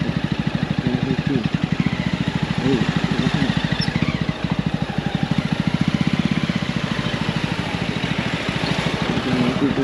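A motorcycle rides along a road with its engine pulsing in a fast, even throb, loud and close, with possible low voices faintly under it.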